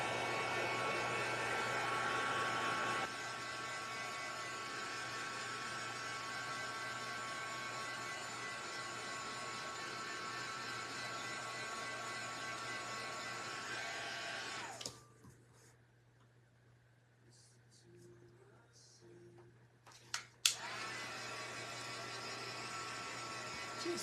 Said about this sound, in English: let me dry this one with the heat gun.